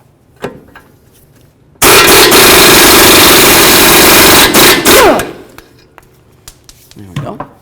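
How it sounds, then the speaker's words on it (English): Impact wrench spinning off a front axle nut with a 21mm socket on a 2008–2012 Jeep Liberty: one loud, steady mechanical burst of about three seconds, then a few clinks from the socket and tools. "we're going to remove this nut right here with a 21mm socket"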